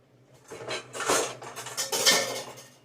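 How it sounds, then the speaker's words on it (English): A small old ceramic bowl is picked up and set among other dishes, with several light clinks and clatters of crockery and a scrape or two, close by and moderately loud, with no talk. "let me get a little dish I want to show you"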